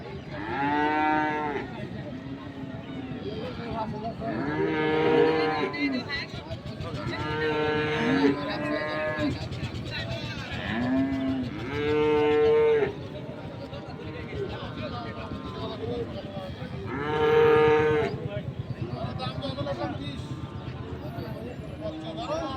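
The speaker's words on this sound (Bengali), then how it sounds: "ক্রস জাতের কিছু ষাঁড় গরু দেখছি" Crossbred Holstein Friesian bulls at the Ambari cattle market in Dinajpur moo repeatedly, long deep calls rising and falling close by, with people talking at the market in between.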